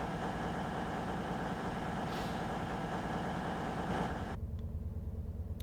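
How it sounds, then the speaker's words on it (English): A train's diesel engine idles at a high tick-over in Train Sim World 6 on the Riviera Line, holding a steady, continuous drone that drops away sharply near the end, leaving a quieter hum. "I always find that these things sound like they're revving too high."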